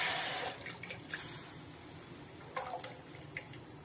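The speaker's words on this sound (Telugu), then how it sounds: "మళ్ళీ స్టవ్ వెలిగించి అదే మూకుట్లో ఆ ఫిల్టర్ చేసుకున్న టమాటా రసం వేసేద్దాం" Filtered tomato juice is poured into a pan for tomato soup, giving a soft, quiet liquid splash and trickle with a few faint drips and no voices.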